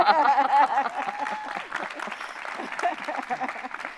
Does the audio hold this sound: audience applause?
yes